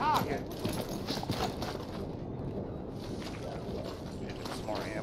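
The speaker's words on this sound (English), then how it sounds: "There's a horse." Horse hooves clip-clop in the Red Dead Online video game, a steady walking rhythm of soft thuds under ongoing game sounds and a talking voice.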